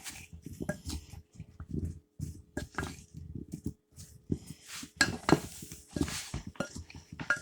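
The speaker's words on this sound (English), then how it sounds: "wooden spoon and you just flip it around where all the seasonings and that olive oil will coat the little potatoes" A wooden spoon flips little potatoes coated in seasonings and olive oil around a bowl, making irregular close knocks, clinks and soft scrapes in uneven bursts with short pauses.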